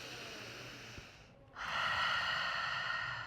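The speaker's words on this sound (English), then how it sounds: "Nice deep inhales." A slow, deep inhale drawn through the nose during a yoga breathing exercise, rising after a brief pause into a steady airy rush that stays close and clear for over a second.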